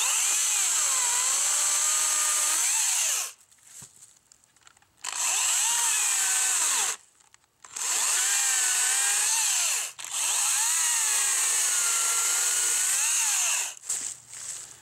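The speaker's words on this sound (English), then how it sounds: "this is a very handy saw, and I'm going to show you how well it cuts" A Makita battery-powered saw cuts through a walnut log in several long, loud bursts, its high whine bending in pitch under load, with short quiet gaps between cuts.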